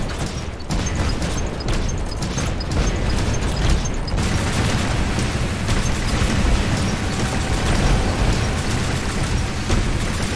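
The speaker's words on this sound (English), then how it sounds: "Now we're getting artillery shots." Artillery shots keep exploding in the robot battle game War Robots, a dense, loud, continuous barrage of booms and bursts with mechanical clatter.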